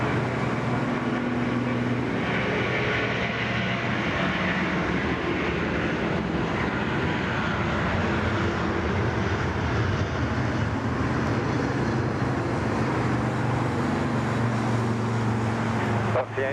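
An Airbus A330 jet taking off at Sydney Airport, a loud sustained engine roar that fills the whole clip and holds steady throughout, with voices talking over it.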